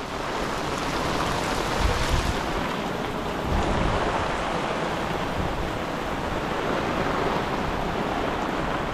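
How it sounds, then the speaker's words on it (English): Floodwater from Hurricane Hilary rushing down a road at Indian Wells Country Club, a steady loud broadband roar of flowing water with gusty wind buffeting, continuous and close, with no voices. "Water is starting to flow down the road real good here"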